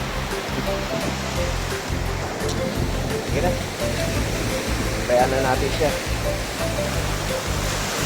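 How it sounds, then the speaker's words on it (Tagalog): Sea waves washing steadily along a shore near fishing boats under an overcast sky, a continuous loud rushing wash with people talking over it. "So, ayan dagat."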